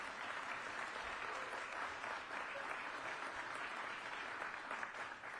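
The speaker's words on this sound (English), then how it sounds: "how about a round of applause for the mathematicians and the physicists?" Dense, steady audience applause fills a hall at a gubernatorial event at IonQ near the University of Maryland, a continuous roar of many hands clapping at even volume throughout.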